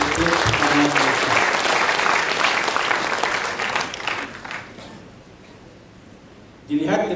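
A convocation hall audience applauds Institut Pertanian Malaysia with loud, dense, continuous clapping that thins and fades toward the end, followed by a brief burst of sound at the close.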